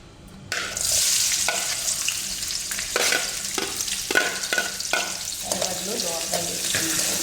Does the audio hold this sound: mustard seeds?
yes